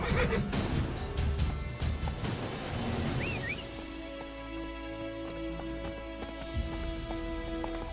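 Roach, Geralt's horse in The Witcher 3: Wild Hunt, gives a clear neigh and whinny over dense game ambience with clip-clopping hooves and a steady background drone.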